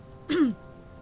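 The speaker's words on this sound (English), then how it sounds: "Suddenly a small cough sounds against the walls of the foyer" A single small cough sounds in a horror video game, one brief throaty burst against a faint, quiet room tone.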